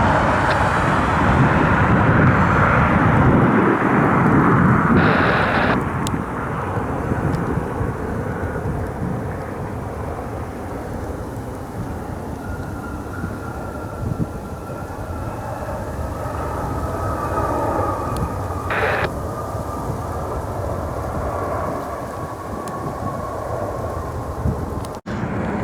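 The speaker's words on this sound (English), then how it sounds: "It's our 737-800 inbound from Dallas Fort Worth, DFW." American Airlines Boeing 737-800 inbound from Dallas Fort Worth arriving at Cleveland, a loud broad jet roar that builds early then settles into a long steady rumble as the aircraft passes and recedes.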